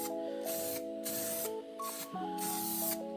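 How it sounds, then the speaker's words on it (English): A SprayMax 1K self-etch weld-through primer aerosol can hisses in several close bursts, with brief pauses between sprays, and a faint whine runs underneath. "This is Spray Max 1K self-etch weld through primer. So I'm gonna hit this all around"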